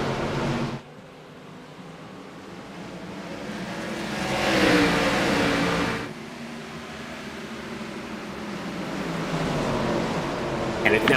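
Race cars roaring back up to speed on a restart at North Wilkesboro during a stock car race, a broad engine drone that swells and fades as the field passes, continuous throughout with a brief cut near the start.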